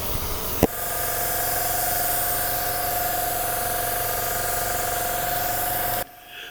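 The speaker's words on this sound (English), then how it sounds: "I'm not going to pull the trigger all the way either because I just want to get this covered with sealer" Spray gun laying Upol 2253 sealer onto a car body under partial trigger, a steady close hiss running about five seconds after a brief click, then cutting off.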